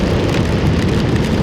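Monsoon downpour drums constantly on a waterlogged mini farm, a thick, loud wash of rain noise with a low rumble beneath and nothing else audible.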